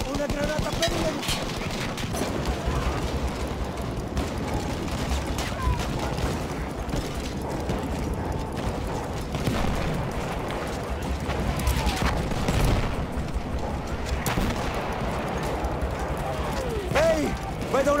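An enemy machine gun fires in a Battlefield 1 World War I battle, a dense continuous rattle amid general combat din and mechanical clatter. Voices talk over the gunfire throughout.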